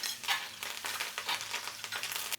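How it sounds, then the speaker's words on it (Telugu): Cashews and curry leaves frying in hot oil for pongal tempering, giving a continuous close crackling sizzle with light stirring and no talk. "ఇలా జీడిపప్పు వేగాక కరివేపాకు కూడా వేసి కాసేపు వేపుకోవాలి."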